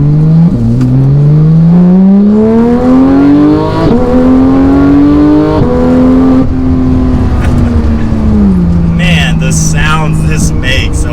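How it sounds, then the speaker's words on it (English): A Porsche 911 GT3 is taken through full-throttle acceleration, and its engine note climbs steadily through the gears with brief dips at each upshift. The sound is loud and continuous, and a voice can be heard over it near the end. "So that was more of a full throttle acceleration"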